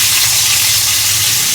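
Potatoes fry in hot oil in a wok, with a loud, dense, continuous sizzle and hiss up close and no talk.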